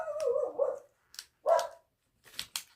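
Dogs indoors bark and yip in short bursts, a few close sharp barks with whining tones between, separated by brief silences.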